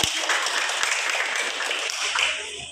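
Classroom applause after a teacher asks for clapping, a dense, steady burst of many hands lasting a few seconds, fairly loud and close, with a faint voice near the end.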